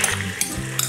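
Sauce mixture poured into a hot pan over garlic for an Asian beef dish, a close, steady sizzle with light clinks of a utensil against the pan.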